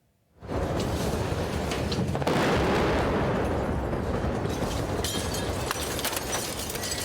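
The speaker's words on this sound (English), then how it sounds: "The sound of explosions shattered the bleak solemnity in Mariupol" A loud blast erupts after a moment of quiet in Mariupol, followed by a dense, sustained roar of rumbling explosions and debris, with no one speaking.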